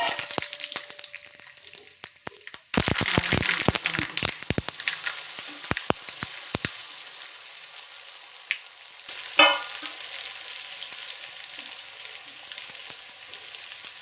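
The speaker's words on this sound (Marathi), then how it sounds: "आता तळून घेऊया" Coriander vadi made with rice flour fries in oil, a bright steady sizzle with a burst of clattering utensil taps early on, then a quieter even hiss.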